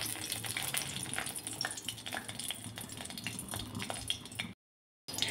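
Dried red chillies frying in a wok, a soft crackling sizzle with occasional clinks of a utensil against the pan, steady throughout before a brief gap near the end.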